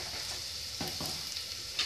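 Spices such as chili powder and cardamom powder being mixed in a pot over heat give a quiet frying hiss, with a couple of brief scraping stir strokes near the middle and end.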